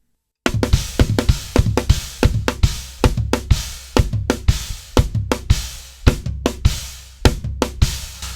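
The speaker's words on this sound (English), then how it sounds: "add another kick in there, which will sound like this." A chopped drum break played alone, crisp hits in a busy, syncopated pattern with punchy extra kick thumps adding weight at the start of phrases.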